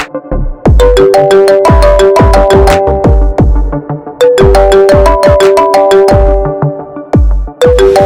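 A loud, bright melodic phone ringtone plays a repeating chime phrase twice, with percussive beats under each tone.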